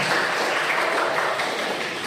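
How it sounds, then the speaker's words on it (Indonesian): Students in a classroom applaud for group 3, a short, steady, dense patter of many hands clapping at once for about two seconds. "Tepuk tangan buat kelompok 3."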